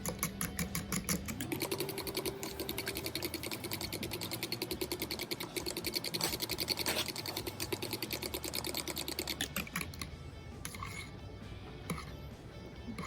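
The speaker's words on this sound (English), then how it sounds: "whisk it up with the fork until all of the egg yolks are all broken up and mixed in" A fork whisks eggs seasoned with salt in a bowl, making a rapid, steady stream of close clicking and tapping strokes that runs without pause and thins out near the end.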